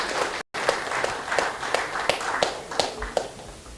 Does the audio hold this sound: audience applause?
yes